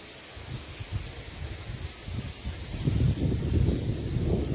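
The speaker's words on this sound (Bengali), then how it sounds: "প্রচুর বাতাস, আকাশ মেঘলা" Strong coastal wind under an overcast sky before a storm in Cox's Bazar buffets the microphone in low, rumbling gusts that build louder toward the end, with faint rustling.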